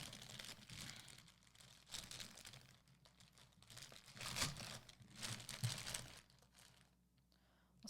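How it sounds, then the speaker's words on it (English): Plastic packaging crinkles and tears in bursts as Anya Forger and penguin figure parts are unwrapped, close and fairly quiet, with irregular rustling through the whole stretch and no talking. "So first thing I'm going to do is get this stuff out of the packaging."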